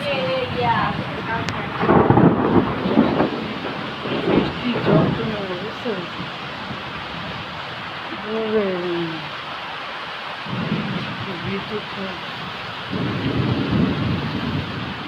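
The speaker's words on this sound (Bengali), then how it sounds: "এত গরমের পরে আল্লাহ কি বৃষ্টি" Sudden heavy rain after a long heat spell falls steadily with low rumbles of thunder rolling through, while voices and bird-like chirps come and go over the wet, noisy background.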